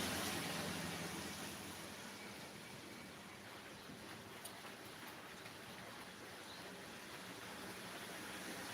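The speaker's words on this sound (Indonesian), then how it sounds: "Hujannya ngerecih." Light drizzling rain falls as a steady, soft, even hiss that stays at a constant level, with no voices.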